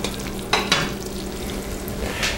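Melting peanut brittle mixture being stirred in a pan, a soft sizzle with a couple of scraping strokes of the spoon against the pan, quiet and close, no talking.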